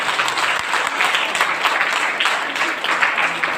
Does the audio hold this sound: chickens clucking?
no